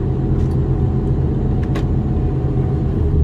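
A Mercedes van engine revs hard near 2000 rpm, a steady, loud, droning howl with low rumble that holds unbroken for the whole stretch, close up and with no voices.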